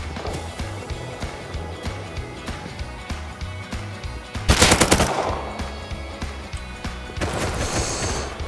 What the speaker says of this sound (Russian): Да зачем ты в меня стреляешь?